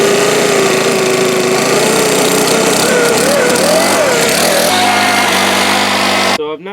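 A 2017 Senix leaf blower engine runs steadily up close, its whine shifting in pitch as the throttle changes, then cutting off abruptly near the end.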